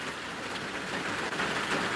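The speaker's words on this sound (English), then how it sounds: "But it is raining quite heavily." Heavy rain falls steadily in central Michigan, a dense, continuous wash of drops on surfaces with no breaks and no voices, loud and close throughout.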